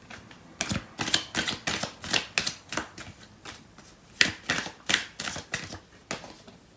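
Tarot cards are shuffled and drawn by hand, a rapid series of crisp riffling slaps and flicks in two bursts of roughly a dozen strokes each, close and clear with no voices.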